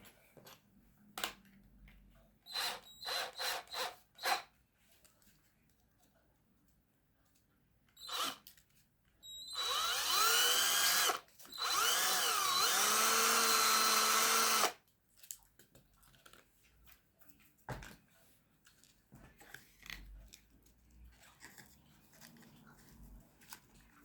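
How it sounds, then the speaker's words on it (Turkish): An electric drill whirs in two bursts lasting a few seconds each, surrounded by scattered clicks, taps and handling noises in a quiet room. "Matkap yardımıyla"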